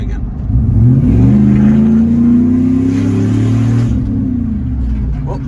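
A car engine revs through a strong, rising and falling low drone that holds steady for several seconds. The car still runs its stock exhaust, before long tube headers are fitted, and it sounds fairly quiet.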